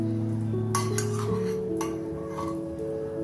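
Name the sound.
spoon clinking in pot while adding ghee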